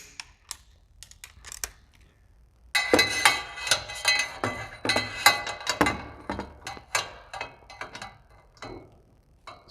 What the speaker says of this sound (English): So I'm setting my torque wrench to 30.